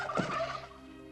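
A single turkey gobbles once, a short, loud, close warbling burst that fades quickly into a faint background hum.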